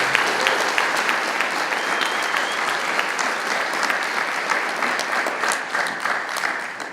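Steady audience applause at a poetry reading event, a dense sustained clapping from a crowd that holds evenly throughout without pausing.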